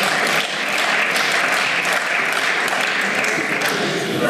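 Applause fills the Berlin Abgeordnetenhaus parliament chamber, a steady, dense clapping throughout that is loud and continuous for several seconds.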